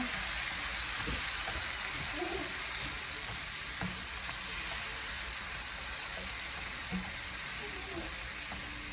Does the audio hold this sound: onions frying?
yes